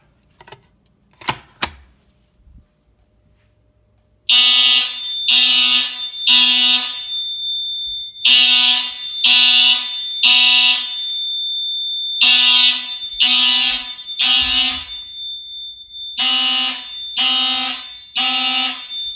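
A fire alarm horn, triggered from a pull station during a system test, blasts in repeated loud bursts of three, pausing between groups, with a steady high strobe-like tone underneath; a few clicks precede it.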